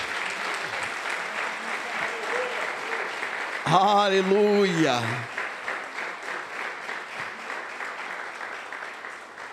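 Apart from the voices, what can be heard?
church congregation applause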